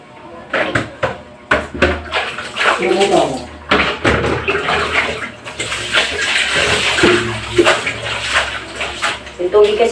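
Running water splashes continuously as dishes clatter and knock in a kitchen sink, with occasional clinks and bumps close by.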